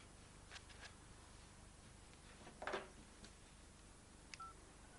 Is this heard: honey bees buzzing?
no